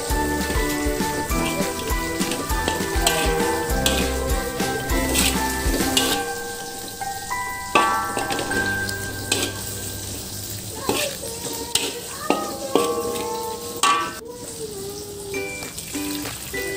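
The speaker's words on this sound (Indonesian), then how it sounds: "Aduk-aduk sampai merata." Chopped chayote is stirred in a pan with coconut milk, giving a steady wet sizzle and clatter with sharp scraping ticks from the utensil, while background music plays in the first part.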